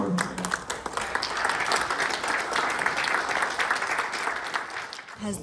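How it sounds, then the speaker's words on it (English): Sustained applause from a large audience, steady and loud throughout with a brief dip near the end. "I'd like to ask everybody to stand up and give them a round of applause."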